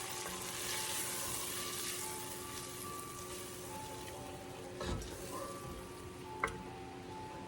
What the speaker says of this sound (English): I'm going to just stir that around there.